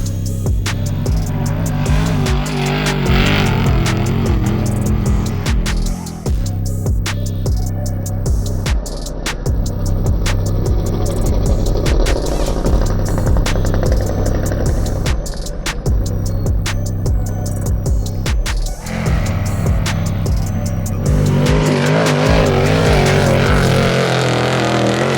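Desert off-road vehicle driven hard during shock tuning near Barstow, its engine roaring loud and continuous close by for the whole stretch, with revving surges and rattling bursts from rough terrain.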